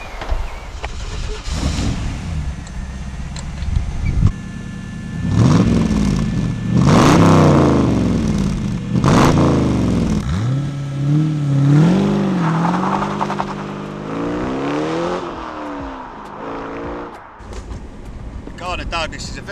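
Gardner Douglas MK4 Cobra fitted with a light, fuel-injected V8 with individual coil packs, accelerating hard: rising engine pitch sweeps through several gear changes, loud and close, with wind buffeting throughout.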